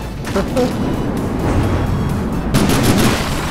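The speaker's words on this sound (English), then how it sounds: "those shells are coming in from the enemy" Enemy shells striking an armored vehicle in a space-ship vehicle-combat video game, a continuous rumble of impacts and thuds, with a louder burst of hits partway through and a voice talking over it.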